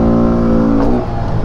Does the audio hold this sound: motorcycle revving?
yes